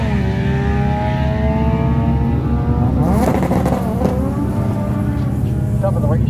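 Race car engine howling on a racetrack at HDAY, a steady loud drone with rising and falling pitch sweeps as the car passes, blended with crowd and track ambience.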